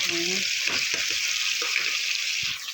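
Ginger and garlic paste fries with chicken in a karahi, giving a loud, steady hiss of sizzling oil with a few soft stirring knocks underneath, close up and continuous.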